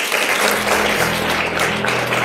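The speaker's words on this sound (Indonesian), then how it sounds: "Kita aplaus untuk Tiansi Bapak Ibu." An audience claps together in a steady, dense burst of applause that carries on with no break, loud and close, with a low hum underneath.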